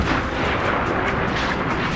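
Continuous booming naval cannon fire and rumbling explosions in Assassin's Creed Black Flag fill the mix densely, loud and sustained without pause.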